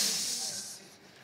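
A person imitates a snake with a loud, steady hiss that starts strong and tapers off over about a second, with no other sound around it.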